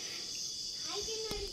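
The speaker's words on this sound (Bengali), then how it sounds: "ঝিঝি পোকার আওয়াজ" Crickets chirp at night in Sajek Valley, a steady high-pitched drone that fills this brief moment. A faint voice-like sound rises near the end.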